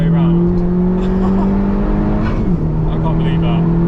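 A Honda Civic Type R FK2 engine drones at sustained high revs, then pitch drops sharply as the car drifts around, loud and close, with people talking over it.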